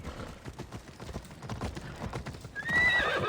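Horse hooves clip-clop in a steady trotting rhythm in the Assassin's Creed Odyssey video game, with a loud high whinny breaking out near the end over a dense game soundscape.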